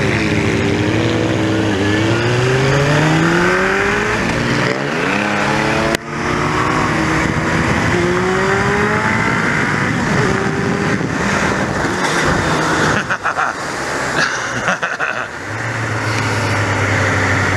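A loud motorcycle stunt over train tracks: the engine revs hard with rising and falling pitch, a sharp jolt as the bike lands, then more throttle, with voices faintly mixed in.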